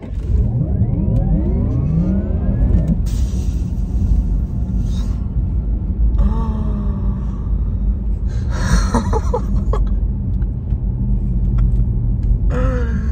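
A Porsche Taycan Turbo S pulls away under launch control with a rising electric whine that sweeps upward over a steady road rumble, followed by further bursts of acceleration.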